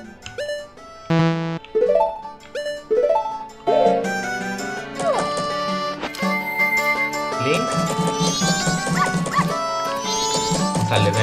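Short yips and barks from a small dog in The Legend of Zelda: Majora's Mask, in choppy bursts at first, then running continuously under busy game music and twinkling effects.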